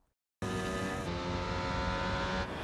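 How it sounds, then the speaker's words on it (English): A designed Formula One race car pass-by for the film F1, where a loud engine roar bursts in abruptly after near silence and holds a dense, buzzing drone that shifts slightly as the car sweeps past close by. "that's kind of a sound designy element that we wanted to do to accentuate the car by coming"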